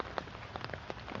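Torrential rain pours down outdoors on a property near a flower bed, a steady dense patter of drops with scattered louder splashes, close and continuous with no voices.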